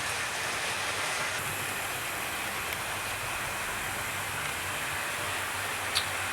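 A Schools Class steam locomotive runs past at a fair pace, making a steady, broad rushing roar that stays even and fairly loud the whole way, with one small clank near the end.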